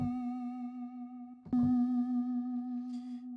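A sustained synthesizer tone from a Mai Tai synth in Studio One with a slow pitch vibrato wobble, briefly interrupted midway before continuing; no voices.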